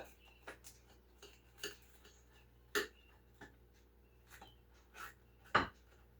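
A knife cuts food in half on a board in a quiet kitchen, giving sparse irregular taps and chops with one or two sharper knocks.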